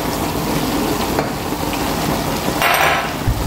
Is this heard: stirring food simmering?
yes